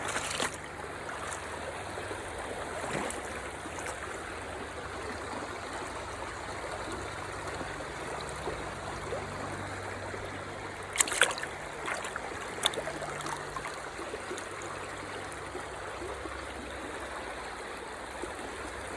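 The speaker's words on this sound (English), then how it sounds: "let's listen to the sounds of the water as it's flowing over these rocks" Water flows over rocks in a stream while rocks are collected, a steady broadband rush that stays even throughout, with a few brief sharper splashes or knocks near the middle.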